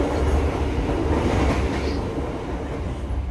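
Singasari executive passenger train running on rails at night, a steady loud low rumble of wheels and carriage lasting throughout with faint rhythmic rail noise and no talking.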